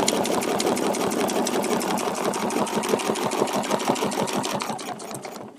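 A sewing machine stitching a feather leaf design with a template, a rapid even chatter of needle strokes that runs steadily and then tapers off near the end, with no voices.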